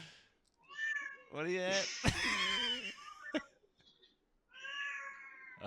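A large cat meows and caterwauls in long, wavering, drawn-out cries, loud and close, with someone talking and chuckling between the yowls.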